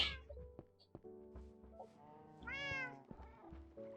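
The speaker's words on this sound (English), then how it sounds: "oh yes, black cats" Black cats in a Minecraft modpack game meow repeatedly, several short synthetic mews followed by one longer, higher wavering call, clear and fairly near over soft game sounds with no speech.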